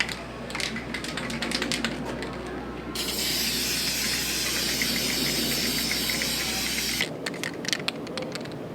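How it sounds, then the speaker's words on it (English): A can of spray paint hisses in bursts, first in short rapid sprays, then in one long continuous blast covering gang graffiti, close and loud over a low background hum. "we're just going to spray paint over it."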